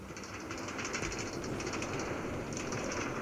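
A New York City subway A train rides toward Far Rockaway along the Rockaway line between Beach 60th and Beach 44th Street stops, with steady rumbling wheels, rhythmic rail clicks and a high metallic hiss throughout.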